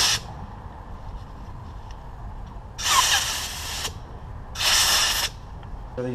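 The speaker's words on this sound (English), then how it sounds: "Now we're gonna bring this through to our compressed air." Compressed air blasts through small Honda Ruckus carburetor parts in two loud, hissing bursts of about a second each, separated by a quiet pause, with a faint short puff at the very start.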